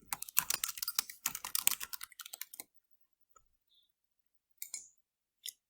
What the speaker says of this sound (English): Then you need to type in the title